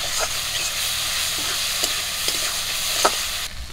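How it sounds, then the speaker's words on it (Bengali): A paste of ginger, cumin, garlic and chilli fries in a pan while being stirred, a steady close sizzle with scraping stirs and a few sharp ticks, with no talk. "সব কিছু ভালো করে ভাজা ভাজা করে নেব"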